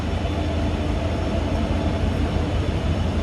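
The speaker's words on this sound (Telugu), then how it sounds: "మా ట్రైన్ వచ్చేసి" A train arriving at a station gives a loud, steady low rumble and roar that holds throughout without a break.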